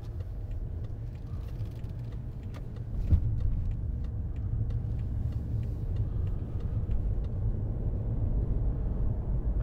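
A 2015 BMW 535d, a 3.0-litre diesel Luxury four-door saloon, being driven: a steady low engine and road rumble heard from inside the cabin, with one brief thump near the three-second mark and no talking.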